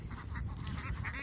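A large flock of domestic ducks raised for meat, in the thousands, quack over one another in a dense, overlapping chorus, close by and steady through the brief moment.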